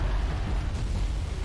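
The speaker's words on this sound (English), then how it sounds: "How big is the explosion gonna be?" An explosion in the video game Halo 3, heard as a dense, sustained low rumbling roar that stays loud throughout.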